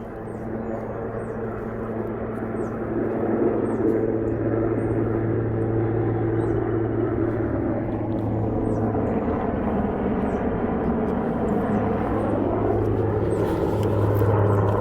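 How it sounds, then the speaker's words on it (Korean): A military airplane passing overhead near a mountain pilgrimage shrine, a loud sustained engine roar with a low droning hum that swells and shifts in pitch as it passes, heard alone with no talking. "지금 군용 비행기가 날아가서 시끄럽습니다."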